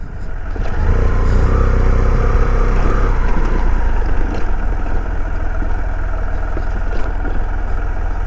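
A motorcycle engine drones steadily and fairly loud throughout while riding on a road through Gausar Valley in Punjab's Soon Valley, with a low continuous rumble and no talk.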